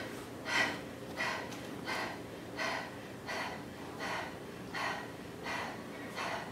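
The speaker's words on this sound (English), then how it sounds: "here's my experience with Kapalabhati breathing." Kapalabhati yoga breathing at a Bikram yoga session: rapid, forceful nasal exhalations in a steady rhythm, about eight sharp puffs, close and clear with no voices.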